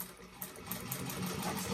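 A sewing machine runs a quick back stitch on a bag seam, a brief, soft, steady mechanical whir heard close up.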